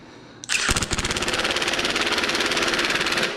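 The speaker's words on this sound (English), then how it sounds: "I like to use the Milwaukee drill on level 1 there" A Milwaukee cordless drill on its lowest setting whirs up suddenly with a rapid ratcheting clatter, driving a bolt on a 2016 Honda CRF230F front wheel, loud and close, running steadily for about three seconds.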